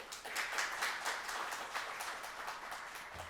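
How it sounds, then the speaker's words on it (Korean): An audience at a 2021 annual report meeting of a public solidarity fund applauds to welcome a speaker, with fairly soft, evenly sustained clapping from many people heard at a distance. "큰 박수로 맞아주십시오."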